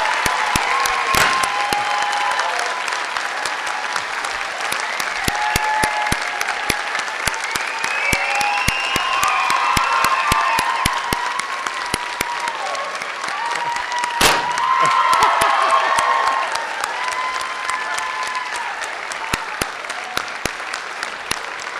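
A large crowd applauds and cheers for graduating students at a college commencement ceremony, with sustained dense clapping, whistles and noisemakers running steadily throughout and swelling in places.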